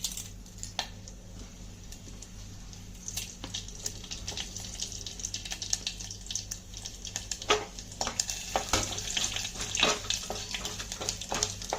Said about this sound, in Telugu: నూనె కాగిందండి, ఇందులో పోపు దినుసులు వేసుకోండి.